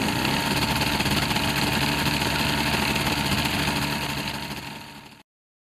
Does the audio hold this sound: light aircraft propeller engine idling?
yes